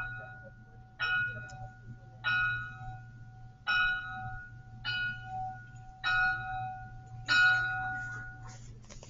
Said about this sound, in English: Sorry, the bell's ringing.